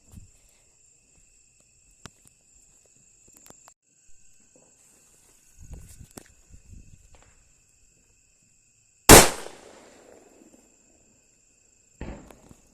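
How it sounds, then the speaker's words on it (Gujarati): A single sharp, loud Diwali firecracker blast cracks out after quiet rustling and faint insect chirping, followed by a fading echo and a smaller pop. "ચાલો હવે આ બોમ્બને સળગાવીએ"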